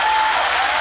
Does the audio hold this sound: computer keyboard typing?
no